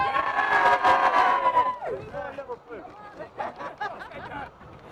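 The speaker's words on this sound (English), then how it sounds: "Come on, give it a cheer." Crowd at a junior football cup final cheering and shouting, a loud burst of voices up front that fades into scattered whoops and chatter.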